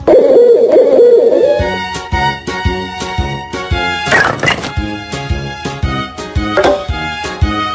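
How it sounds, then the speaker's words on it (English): Owl hoots in a kids' animal puzzle game: after a brief call at the start, a bright cartoonish game tune with plinking notes and a couple of sharp effect hits plays loudly to the end. "Owl."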